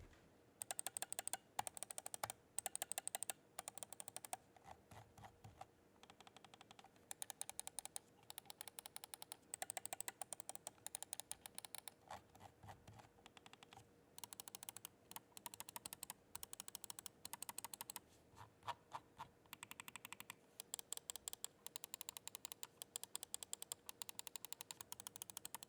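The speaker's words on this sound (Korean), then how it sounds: "기본으로 장착되어 있는 스위치는 ROG 마이크로 스위치로 클릭음이 경쾌한 편인데" Crisp, rapid clicking from the ROG micro switches of an ROG Gladius III wireless gaming mouse, quiet and close, coming in dense bursts and steady runs with brief pauses in a silent room.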